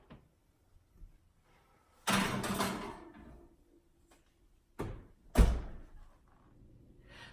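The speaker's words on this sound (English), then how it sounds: "So hold on a second here while I place the pan in the oven." A pan of hot nacho dip is set into an oven: near clunks and a scraping rattle, then a couple of sharp thumps like the oven door banging shut, with quiet gaps between.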